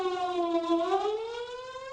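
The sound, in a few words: civil defense warning siren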